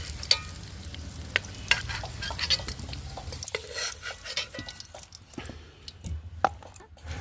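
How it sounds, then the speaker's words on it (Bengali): Dried red chillies, whole garam masala and a bay leaf sizzle in hot oil for a curry base, a steady close hiss punctuated by scattered clinks of a spatula against the pan. "ফোড়নে এখন আমি শুকনো লঙ্কা, গোটা গরম মশলা, তেজপাতা দিয়ে দিলাম।"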